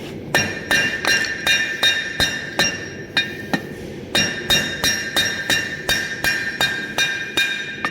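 Hammer blows on metal at an anvil while forging an Egyptian-style dagger, a steady series of loud, ringing strikes in quick rhythmic runs with brief pauses between.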